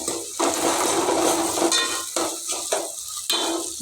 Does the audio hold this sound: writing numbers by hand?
no